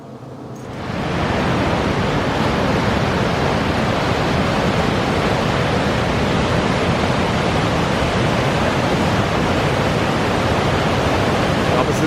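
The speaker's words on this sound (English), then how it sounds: "Directly to the Niagara Falls State Park or Waterfall Park, just directly at the waterfall" Niagara Falls roars as a steady, dense broadband wash of falling water at Niagara Falls State Park, rising after the first second and then holding constant and loud with no breaks.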